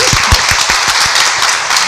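A brief, loud burst of clapping fills about two seconds, with low voices faintly mixed underneath.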